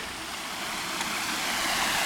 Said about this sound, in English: Walk by this lovely little waterfall here.